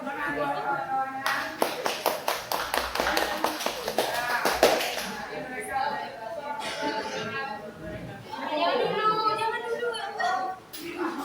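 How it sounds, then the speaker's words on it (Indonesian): Classroom applause for a student group finishing a presentation, a burst of many hands clapping in dense rhythm for several seconds before giving way to murmuring voices and children's chatter. "Oke, tepuk tangan buat kawan-kawannya."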